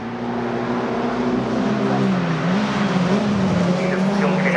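MG Owners Club race cars at Silverstone drone past trackside, a loud, continuous engine roar whose pitch rises and falls as the cars accelerate and move along the circuit.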